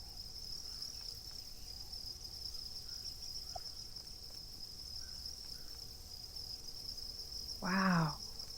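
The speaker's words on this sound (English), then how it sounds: "Come check out the Awesome. cricket castle." Crickets in a cricket farm enclosure keep up a steady, high continuous trill throughout, with a brief louder chirping call near the end.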